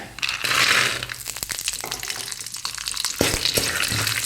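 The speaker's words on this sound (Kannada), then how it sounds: "ಕಡಲೆ ಸ್ವಲ್ಪ ಸ್ಲೋ ಗ್ಯಾಸಲ್ಲಿ ಫ್ರೈ ಮಾಡ್ಕೊಳ್ಬೇಕು" Bengal gram frying on a low flame with curry leaves in oil for Udupi-style chitranna, giving a continuous crackling sizzle with scrapes and stirring clatter in the pan.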